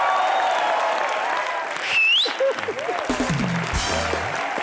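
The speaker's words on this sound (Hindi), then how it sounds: "जोरदार तालियां एक बार यार।" Applause rises from a studio audience on a Hindi comedy show, loud and broad, with whoops and cheering voices and music-like tones mixed over the clapping.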